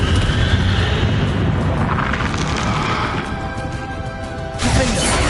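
A Confringo spell blast goes off in the video game Hogwarts Legacy as a loud, close boom with a crashing burst that decays into rumble, then a second sharp hit near the end.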